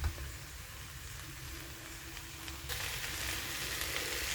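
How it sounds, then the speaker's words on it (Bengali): Fried coconut is mixed into a banana flower curry in a pan, making a steady close sizzle that swells louder and hissier partway through, with no talk. "এইবার এই ভাজা নারকেলগুলো মিশিয়ে দিচ্ছি এর মধ্যে।"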